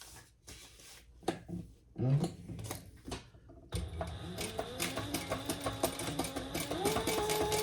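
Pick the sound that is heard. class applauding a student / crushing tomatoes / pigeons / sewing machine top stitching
sewing machine top stitching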